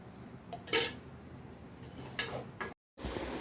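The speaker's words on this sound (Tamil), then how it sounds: "இப்போ அடுத்தது நம்ம வந்து ஒரு கடாயை எடுத்துக்கலாம்" A metal kadai is picked up and set down in a home kitchen before cooking mutton fry, giving a few faint clanks and scrapes of metal, then a brief silence.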